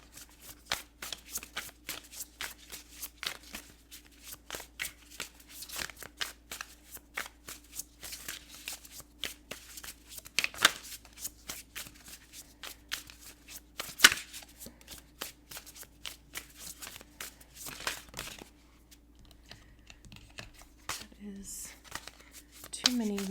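Tarot cards shuffled and handled up close, dense papery riffles and soft slaps in quick irregular bursts, then quieter individual flips, with a reader speaking softly over the card noise.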